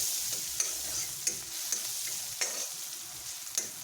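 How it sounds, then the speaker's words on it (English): Onion frying lightly in butter or oil in a karai for chicken soup, a steady close sizzle with periodic sharp spatula scrapes and taps as it is stirred, no talking. "Add butter or oil in same karai. Add onion. Lightly fry it"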